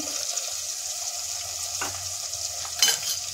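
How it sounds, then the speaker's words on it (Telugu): Chopped tomatoes tipped into a pan of raw prawns cooking for a prawn and brinjal curry, giving a steady close sizzle with a brief louder burst near the end. "ఇప్పుడు అందులోకి కట్ చేసుకున్న 2 టమాటాలు వేస్తున్నాను."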